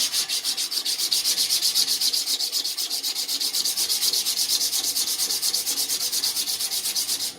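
Sandpaper rubs back and forth over a small wooden necklace piece in steady, quick strokes, close and loud with an even rhythm and no voices.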